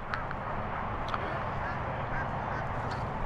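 Ducks and geese at a snowy duck pond give scattered quacks and honks from a gaggle, moderately distant, over steady outdoor wind noise, with a voice talking now and then.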